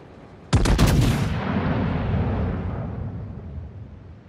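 World of Warships battleship Ohio secondary guns firing in a rapid cluster of sharp, loud blasts, followed by a long rumbling decay that fades slowly.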